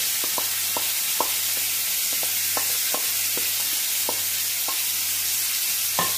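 Pomfret toast fries in a pan over a gas flame, a steady bright sizzle with scattered soft pops and taps running under a low constant hum, no voices.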